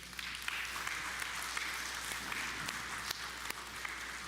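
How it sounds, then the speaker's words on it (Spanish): Church congregation applauding God during a sermon, a steady wash of clapping at moderate distance with no talking over it, holding evenly throughout. "dele un aplauso al Señor porque usted está vivo"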